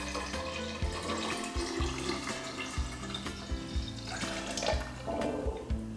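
Cooled syrup pours into fresh lemon juice while basil lemonade is being made, giving a steady liquid splashing and trickling sound that runs throughout at moderate loudness, with no voices.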